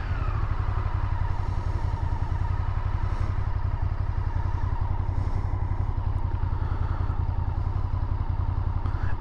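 A 1998 Honda VTR SuperHawk V-twin motorcycle engine rumbles steadily and loudly while riding, a dense continuous throb with a low pulsing beat and some mechanical clatter throughout, with no voices.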